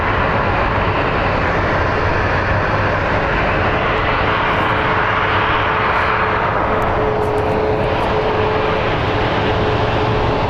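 A steady, loud jet engine roar fills the air at Phoenix Sky Harbor International Airport as Southwest airliners taxi back toward their gates, a continuous broadband rumble with a faint whine riding on top.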